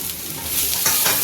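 Tomato goes into a pan of frying potatoes and French beans for a home-style sabzi, bringing a close, bright sizzle with scraping stirs that swell toward the end, with no voices.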